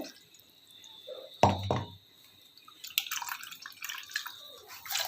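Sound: squeezing grated coconut to extract coconut milk

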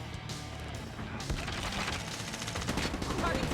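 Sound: HVK-30 rifle gunfire in the video game Call of Duty: Mobile

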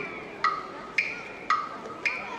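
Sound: clock ticking sound effect in an ice show

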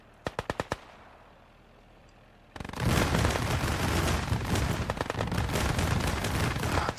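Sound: machine gun fire in Gates of Hell: Ostfront video game

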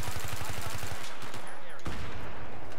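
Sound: gunfire in a video game

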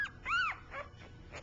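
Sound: one-week-old puppy's little bark

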